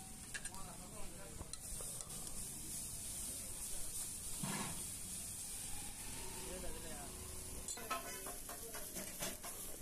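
Tomato egg poriyal with pepper powder stirred in a pan, a quiet sizzle and hiss under scraping spatula strokes, with a burst of clattering near the end.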